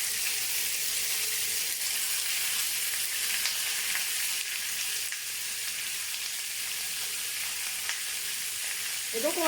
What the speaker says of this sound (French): Je vais rajouter un filet d'huile d'olive et ensuite directement mon saumon.